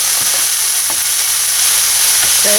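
Bangus (milkfish) filling sautéing in a pan for relyenong bangus, with a steady close sizzle and a few soft scrapes of stirring.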